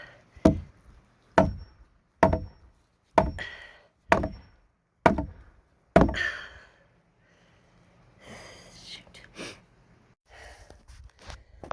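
A nailed wooden piece being struck to knock it loose, seven sharp, evenly spaced knocks at close range, followed by quieter rustling and handling noises.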